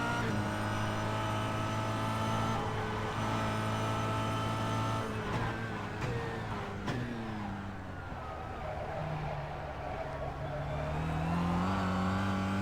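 A Kia Cup race car at Phillip Island, its engine droning steadily from inside the cabin with harmonic pitch shifts as it accelerates and changes gear, no talk over it.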